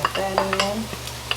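Red onion sautéing in a pan for chili, a soft sizzle with quick scraping stirs and light utensil taps on the pan, close by and free of talk.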